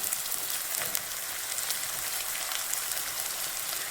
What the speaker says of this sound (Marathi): तर लागले आता मस्तपैकी चांगलं फ्राय होऊन देणार आहे हे